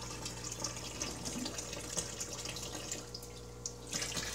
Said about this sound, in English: all this water really gushing, pouring down into the drain tank.